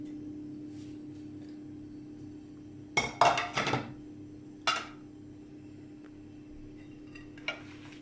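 Pan-cooked leeks are tipped into an oval baking dish, giving a few clinks and scrapes of utensil on the dish in short bursts, with quiet stretches between.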